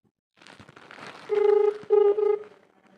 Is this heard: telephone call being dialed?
yes